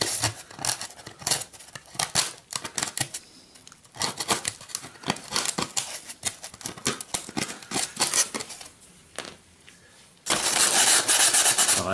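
Scissors cut through burnt, hardened polystyrene foam on a diorama base, giving close, crisp snipping and crunching in rapid irregular bursts with short pauses, then a steady hiss at the end.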